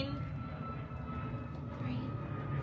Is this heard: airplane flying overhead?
yes